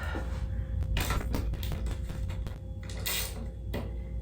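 A bike's through axle is threaded back in and tightened, giving a series of short metallic clicks, creaks and ratcheting taps up close, with no talking.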